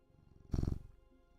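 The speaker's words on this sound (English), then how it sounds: "Oh yeah, he purring." A cat purring up close, a short low rumbling burst lasting under half a second that rises and fades against quiet background.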